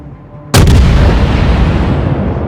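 A warship's main battery fires in World of Warships with a sudden loud boom, and the roar sustains and slowly fades over about two seconds. No speech is heard.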